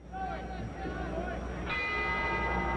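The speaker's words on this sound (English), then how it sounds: "The bell ending round 6." A boxing bell at Madison Square Garden ends a round, ringing with a bright, sustained metallic tone as a commentator talks over it and crowd murmur continues beneath.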